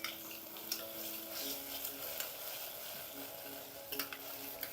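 Onions fry in a pan for street-style pav bhaji, giving a quiet, steady sizzle with intermittent spoon scrapes and a few sharp taps near the end. Nobody talks.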